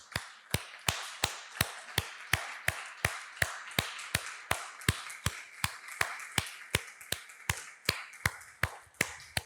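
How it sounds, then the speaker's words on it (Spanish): A church congregation on its feet claps in unison, sharp, evenly spaced claps about three per second that keep a steady rhythm throughout. "le damos al Señor un fuerte aplauso de gratitud"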